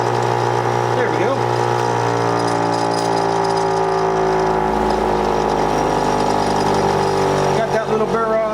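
A power tool grinds a lawn mower blade to knock off the burr, a steady loud whirring drone that shifts pitch as the tool works the steel.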